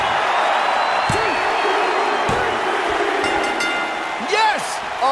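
Loud wrestling crowd roaring and cheering at a hardcore title match, a dense steady wash of voices with a commentator talking over it throughout.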